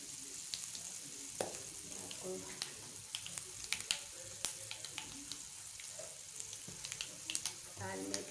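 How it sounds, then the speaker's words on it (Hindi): Tempering for lentil dal, with garlic frying in hot oil, sizzles and crackles steadily at close range, with scattered sharp pops throughout and no talking. "अब ये मैं दाल में तड़का लगाने जा रही हूँ, बघार लगाने जा रही हूँ"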